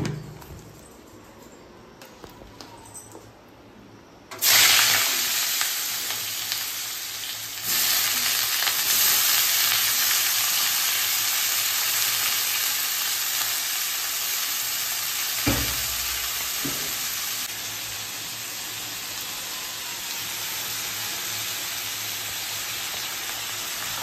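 Food frying in a pan: after a few quiet seconds a loud sizzle bursts in and carries on as a steady close hiss of hot oil, with brief dips and scrapes partway through.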